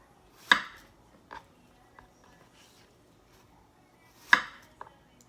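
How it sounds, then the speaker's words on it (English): A knife cuts plantains into slices on a board, giving two sharp, distinct chops about four seconds apart with a few faint lighter taps between, close and fairly quiet with no voices. "So I'm just gonna cut it into my slices."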